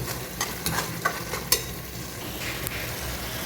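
Mutton sizzling and frying in a pan for gravy, with a steady hiss broken by a few sharp clacks of a spoon stirring and scraping the meat.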